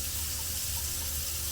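Water runs steadily from a kitchen faucet with three selectable spray flows, a continuous, even hiss of flowing water into the sink, close and unbroken for the short span.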